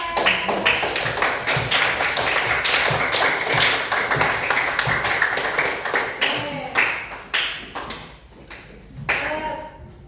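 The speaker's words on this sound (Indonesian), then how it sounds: "Beri tepuk tangan untuk kelompok 3 dan kelompok 4." Students clap in a classroom after group presentations, a fairly close, steady patter of hands that thins and breaks into scattered final claps toward the end.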